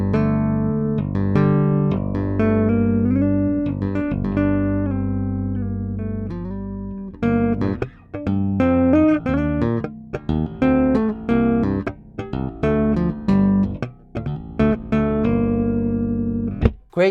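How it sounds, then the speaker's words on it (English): Fingers tapping notes on an Ernie Ball Music Man StingRay Special bass guitar, played solo and up close as sustained melodic lines giving way to quicker, choppy tapped phrases. "Great tapping sound, always has had a great tapping sound"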